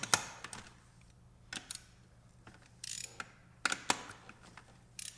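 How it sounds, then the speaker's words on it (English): Ratcheting wrench clicks while loosening the four 10mm bolts holding the throttle body on a Porsche 911, coming in short close bursts separated by quiet pauses. "there's just these 4 10mm bolts that hold the entire throttle body in place. So we're going to loosen those"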